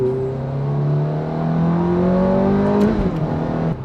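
A Ferrari F430 V8 engine revs loudly and close by, its pitch climbing smoothly and holding high before dropping off abruptly near the end.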